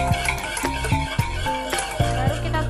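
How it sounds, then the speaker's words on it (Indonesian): A spoon scrapes and taps against a bowl as egg yolk is stirred into a risol filling mixture, several short rhythmic strokes close by, with a steady hum underneath and no talking. "Kita tambahkan kuning telur. Setelah itu aduk rata."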